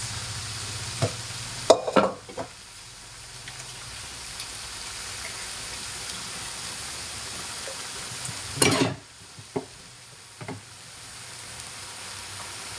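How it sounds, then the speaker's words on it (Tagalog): Tuna head miso sinigang is stirred in a pot, with soft scraping and a few sharp clinks and knocks of a utensil against the pot over a quiet simmering background. "Haluin ulit natin."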